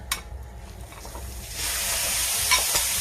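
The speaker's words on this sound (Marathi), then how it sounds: "गाजर बारीक करून घेतले ते गाजर आपण ह्यामध्ये मिक्स करू" Finely grated carrot being stirred into hot ghee in a pan for carrot barfi: a sudden loud hiss and sizzle swells after a quiet start and holds steady, with a few spoon scrapes close by and no voices.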